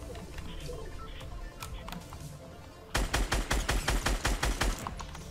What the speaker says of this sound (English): Ah, there's people shooting.